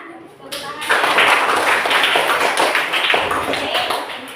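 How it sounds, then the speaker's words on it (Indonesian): A classroom group claps hands in a dense, sustained burst of applause that starts suddenly and carries on for several seconds, with voices mixed in. "Ayo, mana tepuk tangan."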